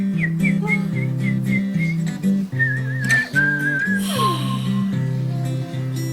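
A person whistles in short chirping phrases and then longer warbling notes to imitate a small bird singing, clear and up close over a bouncy children's seasons-show music backing.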